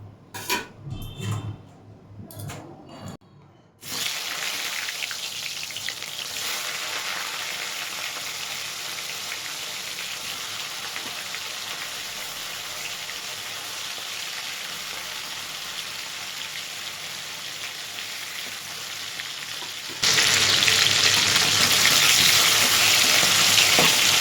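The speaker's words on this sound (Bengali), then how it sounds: "সর্ষের তেলে ভাজবো ক্যাঁকড়াটা তেলটা গরম হলে আমি তারপর ক্যাঁকড়াটা ছাড়বো" Crab frying in hot mustard oil, a steady loud sizzle that jumps as the crab hits the pan, with a few utensil clinks at the start and the crackle growing brighter near the end.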